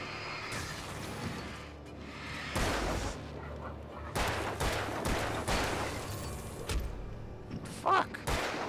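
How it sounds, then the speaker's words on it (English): Gunfire in Alan Wake comes in separate heavy bursts, loud booming shots and cracks with shorter gaps between volleys, set against quieter game ambience. "Shoot, Alan Wake, shoot."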